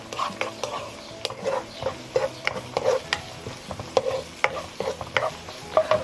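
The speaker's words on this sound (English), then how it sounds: "And then I'm gonna add in my leeks before it totally gets hot." Leeks frying in oil in a pan, a soft crackling sizzle with a utensil repeatedly scraping and stirring in uneven clatters, close and moderately loud.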